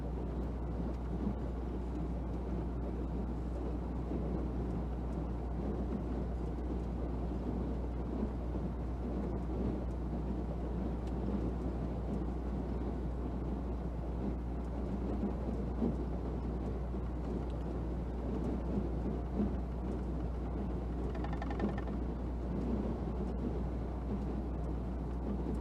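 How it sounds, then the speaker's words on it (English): A constant low roar of strong tropical-storm wind buffeting a storm tracker truck on Dauphin Island, heavy rumbling and rushing that holds steady throughout with no pauses. "the wind definitely is making loud noises against our storm tracker truck"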